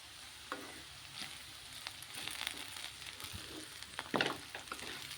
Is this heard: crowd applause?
no